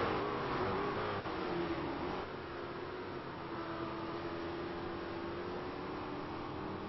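A race car at full throttle through the esses at Watkins Glen during a road race, engine howling loud and steady for the whole stretch, a sustained high drone with a brief dip early on.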